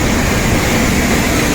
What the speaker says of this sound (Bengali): একটা ট্রেন ঢুকছে 4 নম্বর প্ল্যাটফর্মে।